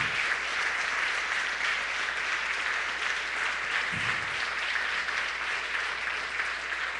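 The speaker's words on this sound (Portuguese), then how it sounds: "Vamos aplaudir a Jesus?" Church congregation applauding steadily, a dense, even wash of clapping that holds at the same level throughout with no pauses and no voices on top.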